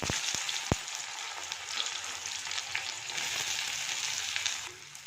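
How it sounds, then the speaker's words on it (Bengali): Onions hitting hot oil in a wok give a loud, steady frying sizzle with a few sharp clatters near the start, running continuously before easing off at the very end. "পুরো তেলটা গরম হয়ে গেছে পেঁয়াজ দিয়ে দিচ্ছি"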